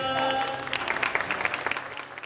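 An audience at a Teachers' Day award ceremony in Tainan applauds a teacher. A brief tonal sound opens the moment, then a burst of clapping from many hands rises and slowly thins out.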